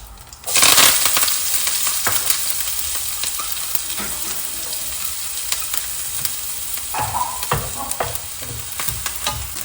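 Chopped onion, curry leaves and dried red chillies hit hot oil in a pan for pumpkin thoran, bursting into a loud sizzle that settles into steady frying with occasional stirring scrapes and small crackles, with no talking.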